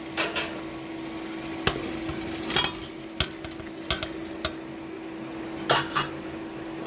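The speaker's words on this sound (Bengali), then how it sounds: "এখন এটার উপর মাছ দিয়ে দিতে হবে।" Fish pieces go onto a spice paste frying in a pan, bringing a steady low sizzle punctuated by sharp clinks and scrapes of a utensil against the pan, close up with no voices.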